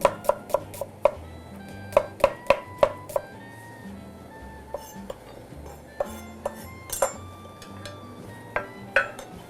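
A knife slices an onion thinly against the grain on a board, giving quick sharp cuts in bursts, with clinks of kitchen utensils and a low background hum. The cooking is for Vietnamese beef pho.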